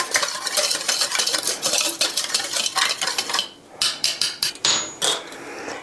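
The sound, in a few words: whisking powdered protein ice cream mix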